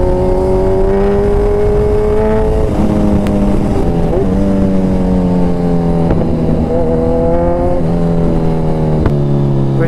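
Car fitted with a full dual-exit exhaust drones loudly and continuously close by, its engine note rising and falling through revs, with a few sharp cracks that stand out against the steady roar.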